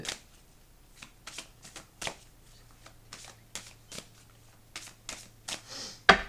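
A deck of tarot cards is shuffled and cut by hand, a series of quick riffling and slapping bursts spaced irregularly, close and dry over a quiet room, with no talk.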